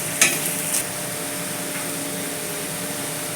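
Onions with a little sugar frying in a pan, a soft even sizzle, near and fairly quiet, with two brief clinks near the start and no talk.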